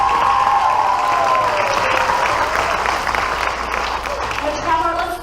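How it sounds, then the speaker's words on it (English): Sustained applause breaks out for a high school state title holder at a school board meeting, loud and continuous with some cheering mixed in, while a voice carries over the clapping near the start. "Let's give him a big round of applause."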